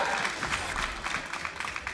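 Esports tournament crowd at a League of Legends match applauding with a dense, steady patter of clapping and faint cheering, with a commentator's voice underneath.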